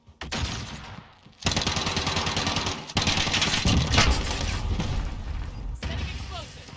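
Flashbang grenades exploding in Call of Duty multiplayer, loud booms and crackling blasts layered with gunfire and game noise, with voices calling out over the action.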